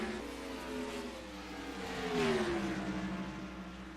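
Stock cars racing at Bristol in the NASCAR Racing 2003 game, engines droning steadily with a swelling roar as cars run nose to tail, one pitch sliding downward as a car passes.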